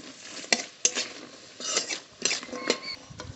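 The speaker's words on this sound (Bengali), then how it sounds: "একটু হালকা করে বড়িটা ভেজে নিয়েছি" Sun-dried ash-gourd lentil dumplings (bori) frying in oil with dried chilli, bay leaf and five-spice, as a spoon scrapes and clacks against the pan in several sharp knocks over a light, steady hiss.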